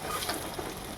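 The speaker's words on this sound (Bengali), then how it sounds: "ওই তেলের মধ্যে আমি মিষ্টি কুমড়া আর আলুকে ভেজে নিলাম," Pumpkin and potato pieces fry in hot oil with a steady, close, crackling sizzle and no speech.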